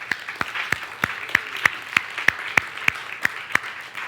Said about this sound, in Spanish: se merece un aplauso al Señor